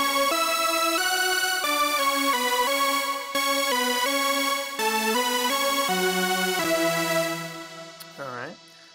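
A keyboard plays the lead line of a song, a clear sequence of sustained synth notes stepping through the melody, loud and alone before fading, with a short voice at the very end.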